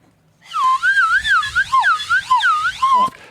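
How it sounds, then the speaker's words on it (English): A high, wavering slide whistle played through a mask glides up and down in quick swoops for a few seconds, slightly muffled, then cuts off with a soft clatter. "That's a slide whistle through a mask."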